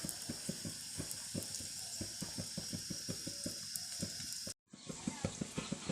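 Mango burelu sizzle and bubble steadily as they fry in hot oil, with a busy crackling texture and small popping ticks throughout; the sound cuts out for a brief moment near the end, then the frying resumes.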